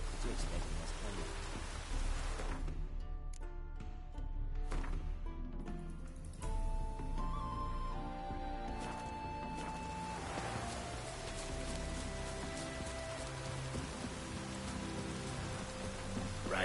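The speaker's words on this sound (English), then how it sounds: "Rain again." Steady rain patters across surfaces in a PS4 video game, dense and continuous, with faint tonal sounds drifting in and out over the downpour.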